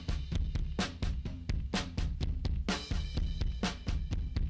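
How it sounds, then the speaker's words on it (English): A drum mix run through tape-machine slapback delay, with punchy, rapid, rhythmic hits of kick and snare with bright cymbal wash. It is loud and continuous, with no voices. "I'm getting a little bit of a slapback here on this tape machine"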